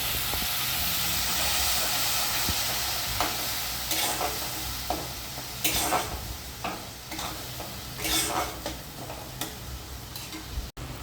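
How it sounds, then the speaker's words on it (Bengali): Spice paste with ground pepper and a splash of water fries in a pan for Punjabi-style aloo dum, a loud continuous hiss with intermittent scraping and tapping stirs, close up and without speech. "জল অল্প করে একটু দিলাম, তাতে মশলাটা ভালো করে ভাজা হয়ে যায়।"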